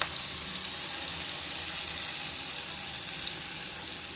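Tamarind water for a Tamil kizhangaa fish curry trickles and splashes softly through a sieve in a continuous, faint wash of liquid, with no talking.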